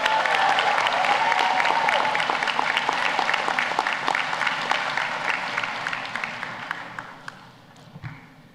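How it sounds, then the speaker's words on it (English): Sustained applause from a ceremony audience honouring medical students receiving white coats, dense and steady at first, then gradually thinning and fading toward the end. "Okay, big round of applause for all the Garnett House students."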